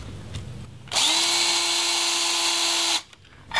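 A power drill fitted with a masonry bit bores a hole while installing a threshold in a tiny house, a loud, steady high whine lasting about two seconds before it cuts off abruptly.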